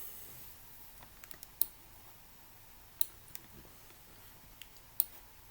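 Sparse keyboard key presses and mouse clicks while working in Blender 3D software, a few light taps clustered with three sharper clicks spaced about two seconds apart, close and quiet against a soft room hiss.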